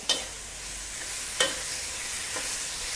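Squid stir-fried over high heat in a spicy drunken-style Thai stir-fry, with a steady close sizzle and a few sharp scrapes of the spatula against the pan.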